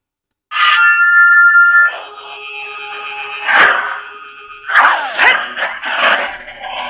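A Zelda Master Sword Neopixel lightsaber running a Proffie board powers on with a tonal ignition swell, followed by a sustained hum and several swooshing, crackling effects, loud and close.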